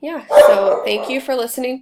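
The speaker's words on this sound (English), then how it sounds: "excuse my dog barking" Barking from a household dog sits beneath a woman's closing remarks, the yaps blending with her speech across the short stretch.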